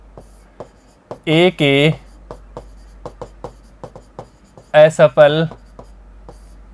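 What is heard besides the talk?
writing on a board while teaching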